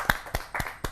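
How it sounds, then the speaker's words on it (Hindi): Brief, sparse hand claps from a poetry gathering audience at a kavi sammelan, four separate sharp slaps spaced evenly about a quarter second apart, fairly close and faint, with no talk. "जोरदार ताली के साथ प्रीति त्रिपाठी।"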